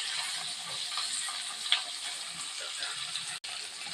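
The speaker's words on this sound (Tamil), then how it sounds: "இது வந்து நம்ம நல்லா ஃப்ரை பண்ணி எடுத்துக்கலாங்க" Shallots, green chillies and mint frying in hot oil, a steady bright hiss and crackle of sizzling throughout, fairly close and unbroken apart from one brief dropout.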